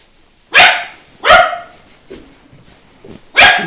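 Dogs bark in three loud, close bursts, with fainter yips and whimpers between them; no one speaks.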